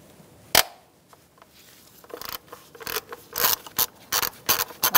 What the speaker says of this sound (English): You're going to use a 10 millimeter socket.